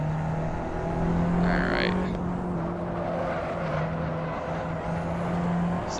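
Abarth 500 Esseesse engine in the Assetto Corsa racing game, a steady low drone held at constant pitch for several seconds without big revs, with a brief voice near the start.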